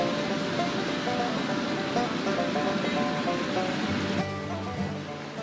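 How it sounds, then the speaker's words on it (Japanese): Steady, even rushing of a waterfall in a park in Tochigi, Japan, fills the whole stretch at moderate distance with no talking, and a faint tonal hum joins near the end. "見てください、あの滝。"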